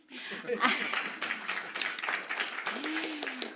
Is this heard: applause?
yes